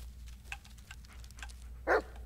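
A dog barks once in the Blair Witch video game, a single short, fairly clear bark near the end of an otherwise quiet stretch with low background hum.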